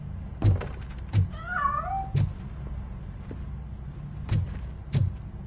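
Several sharp thumps land at irregular intervals inside the Robocop game, and between them a cat gives a brief wavering meow, moderately close and fairly clear.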